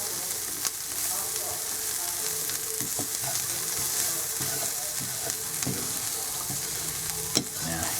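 Ground spices (garam masala, turmeric, cumin and coriander) frying in a pan for chicken tikka give a steady, moderate sizzle with occasional small clicks and scrapes.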